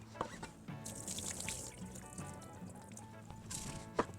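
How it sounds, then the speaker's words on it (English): Rice-washing water drains out of a Japanese rice cooker pot, with faint, close trickling and dripping and a couple of small knocks of the pot. "So this time I'm gonna try to empty out as much water as I can to do some math."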